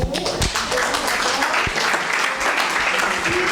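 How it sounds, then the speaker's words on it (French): An audience at a leadership session applauds in a dense, steady wash of clapping that fills the whole stretch, with a voice faintly audible over it. "Applaudissez, applaudissez, applaudissez."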